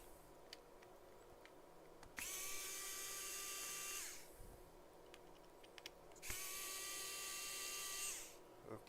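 A small screwdriver drill whines as screws are backed out of an Acer tablet for battery removal, two sustained high-pitched buzzing bursts of about two seconds each, separated by quiet handling clicks, close and fairly faint.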